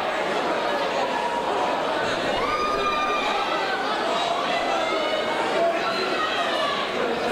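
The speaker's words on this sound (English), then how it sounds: "Listen to the crowd here," A boxing crowd at a professional bout fills the arena with dense, continuous cheering and noise, while a commentator talks over it.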